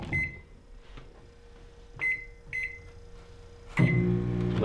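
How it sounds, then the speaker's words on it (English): A microwave oven heating food runs with a steady low hum under beeps from its keypad, several short tones spaced apart, ending with a louder clunk and whir as it starts or stops. "Throw it in the microwave, about 35 seconds."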